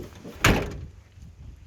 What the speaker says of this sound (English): ooh, that door shuts good, don't it?